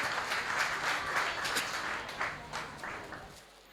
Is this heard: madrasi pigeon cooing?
no